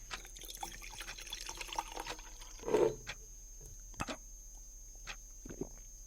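Drinking water is poured in a Hindi radio drama: one brief splashy pour rises out of a quiet room tone, followed by a few faint clinks.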